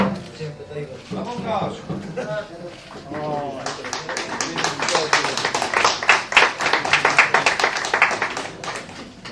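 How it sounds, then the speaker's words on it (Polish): Speech at first, then a burst of clapping from a crowd that builds and continues steadily to the end. "Gorące brawa dla zawodnika."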